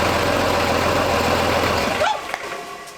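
Truck diesel engine with a turbo, started after sitting, runs loud and steady for about two seconds, then shuts off abruptly, leaving a quiet tail with faint knocks.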